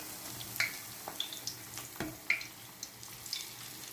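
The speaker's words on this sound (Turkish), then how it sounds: "Üzerine kızgın yağ dökmek çok güzel kabartıyor." Hot oil ladled over potato börek frying in a pan, a soft steady sizzle broken by sharp pops and bursts of spattering, fairly quiet and close.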